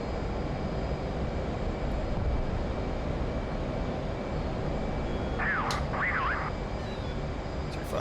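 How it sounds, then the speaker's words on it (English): Jet engine roaring with afterburner engaged in the DCS flight simulator: a constant, loud broadband roar throughout, with a brief warbling tone near the end. "afterburner on"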